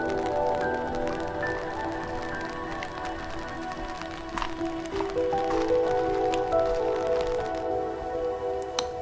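Rain patters steadily outdoors on a quiet residential street, a continuous close spatter of drops with scattered sharper taps, accompanied by soft sustained tones in the background and no voices.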